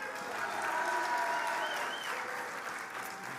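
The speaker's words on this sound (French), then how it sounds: "un maximum d'applaudissements pour Emmanuel Petit" An audience at a talk featuring Emmanuel Petit claps in a steady wash of applause that holds fairly even throughout, with faint crowd murmur and no clear cheering.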